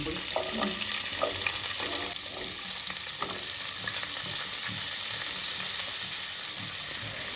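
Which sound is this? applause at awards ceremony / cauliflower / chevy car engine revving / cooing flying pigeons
cauliflower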